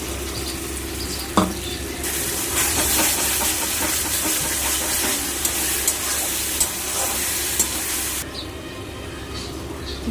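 Tomato paste hits hot oil in a pan for Bengali katla fish kalia, a sudden loud sizzle that hisses steadily for several seconds with stirring clicks, then drops back to a quieter fry.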